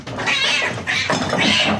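Cats fight and yowl at close range, giving three loud drawn-out caterwauls in quick succession with no talk over them.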